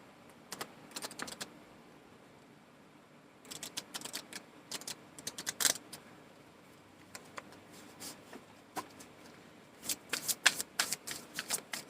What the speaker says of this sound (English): I'm going to give it a quick little shuffle.